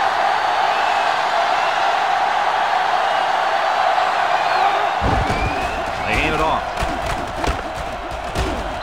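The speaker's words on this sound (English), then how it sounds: "The sellout crowd is really making a difference now as these guys can't even call the play" Stadium crowd in NCAA Football 2005 at a South Carolina vs. Clemson game, a loud sellout roar that drops into scattered cheers and claps after a sudden cut midway.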